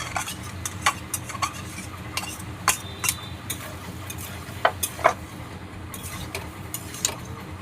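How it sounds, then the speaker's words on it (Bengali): Meat going into sautéed ridge gourd in a cooking pan, with a soft steady sizzle under repeated sharp clinks and scrapes of a utensil against the pan, close and irregular, with no talking. "এবার ঝিঙেগুলো কষানো হয়ে গেছে, মাংসগুলো দিয়ে দিচ্ছি।"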